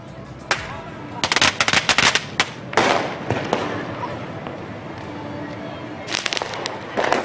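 Firecrackers go off at a night party in sharp, irregular bursts of rapid cracks. The clusters of bangs are separated by short pauses, and a background of crowd noise runs underneath.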